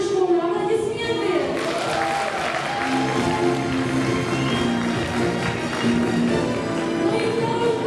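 An audience applauds at a school's last-bell ceremony for eleventh-grade graduates, steady clapping running throughout while a voice speaks over it.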